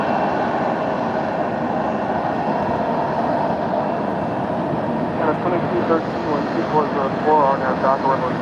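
An American Airlines jet airliner at LAX roars steadily and loudly throughout, a broad engine rumble, while someone talks over it toward the end.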